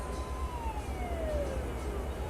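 A police car siren in Euro Truck Simulator 2 wails in a slow descending sweep over a steady low engine rumble, moderately loud and continuous with no talk.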